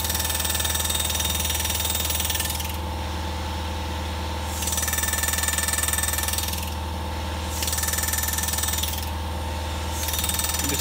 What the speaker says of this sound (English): This is an air-assisted chisel